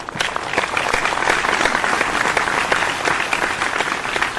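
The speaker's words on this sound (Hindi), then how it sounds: "तालियां बजा भाई इनको" Dense, steady applause from an audience at a Hindi poetry recital (kavi sammelan) in Indore, continuous loud clapping filling the whole stretch with no speech.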